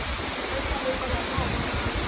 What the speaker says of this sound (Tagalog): May maganda palang busay dito